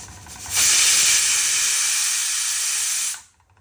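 A pressure cooker whistle shrieks as potatoes cook over a medium gas flame: a single loud, steady, hissing steam blast that lasts about two and a half seconds, then cuts off sharply into near quiet.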